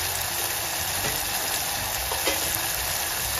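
Asafoetida and turmeric hit hot oil in a pan, giving a loud, steady broadband sizzle and crackle throughout, with a faint stir and no talking.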